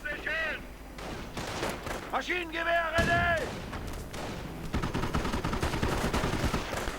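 Armoured car gunfire in a World War II strategy game, an American Greyhound firing on German grenadiers: rapid bursts of shots and impacts through the second half, with a voice talking over the opening seconds.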